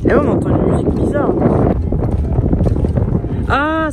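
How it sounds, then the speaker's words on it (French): Wind blows around a wind turbine at Nueil-sous-Faye, a loud continuous low roar of buffeting gusts, with voices speaking briefly over it near the start and end. "Ah, c'est le vent."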